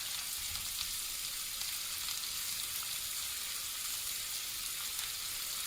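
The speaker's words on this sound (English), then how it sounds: "All there is to saute in some purple cabbage and even some regular cabbage." Purple cabbage and regular cabbage sautéing in olive oil and butter, giving a steady, even sizzle and frying hiss with no talking.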